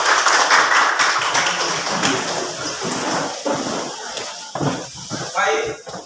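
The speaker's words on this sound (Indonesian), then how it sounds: "tepuk tangan" Children clapping together in a classroom, a dense, rain-like patter that carries on for several seconds and then thins out. An adult voice talks over it.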